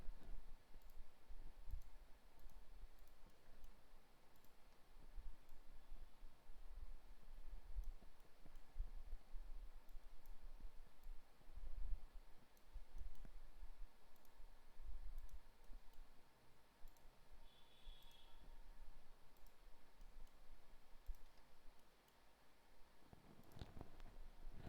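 Sharp computer mouse clicks tapped out at an uneven pace while a design outline is drawn, light and close over a faint background hiss, with no one speaking.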